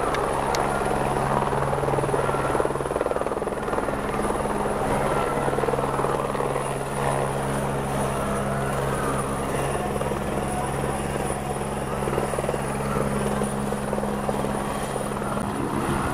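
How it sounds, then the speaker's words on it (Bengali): A helicopter circles overhead and comes down onto a high school playground during a crowded public appearance, its rotor and engine roaring loud and continuous throughout with no break. "আকাশে দুচক্কর কেটেই ধীরে ধীরে হেলিকপ্টার এসে নামল আমতলা হাই স্কুলের খেলার মাঠে"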